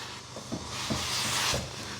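A steam iron hisses in a broad continuous burst while a shirt is ironed, swelling in the middle, with a few soft knocks of the iron against the board underneath.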